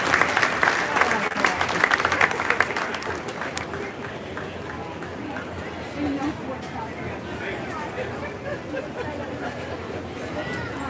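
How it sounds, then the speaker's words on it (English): Applause from a crowd in a livestock barn at a junior fair swine show, loud clapping for the first few seconds that fades into steady crowd chatter and barn noise, with voices talking throughout. "give them a big round of applause"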